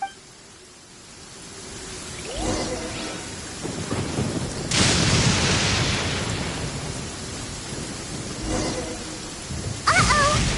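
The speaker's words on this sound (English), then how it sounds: "Lightning storm!" A thunderstorm in the game Genshin Impact rumbles with rolling thunder over steady rain, with heavy crashes building loudly through the middle and another sharp burst at the end, with no voices.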